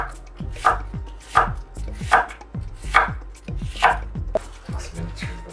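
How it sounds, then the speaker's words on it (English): Knife chopping through an onion on a cutting board while making beef fajitas, about eight firm, evenly spaced cuts, close and clear with no talking. "Take the onion and we're gonna slice it this way."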